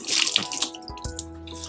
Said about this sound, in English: Now you need to spin out all the water.